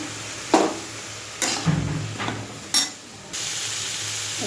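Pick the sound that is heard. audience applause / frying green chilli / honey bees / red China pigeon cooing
frying green chilli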